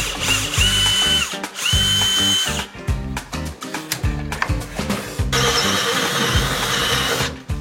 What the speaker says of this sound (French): Allez, bah faut que j'aille l'enlever pour continuer de percer ça.